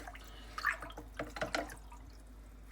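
Water being stirred by hand in a 10-gallon container, giving a few soft splashes and scattered drips over quiet room tone, with no talking.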